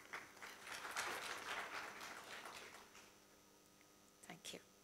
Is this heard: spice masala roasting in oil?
no